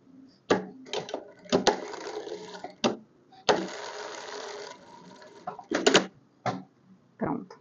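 A sewing machine runs in short stop-start bursts of mechanical stitching, with one longer steady run, while closing the side seam of a child's festa junina dress, close and moderately loud with faint handling clicks between bursts.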